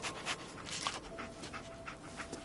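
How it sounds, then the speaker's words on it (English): Dogmeat the dog in Fallout 4 pants steadily and close, a soft rhythmic series of breaths over a low game ambience. "Dog meat. Get the scent, boy."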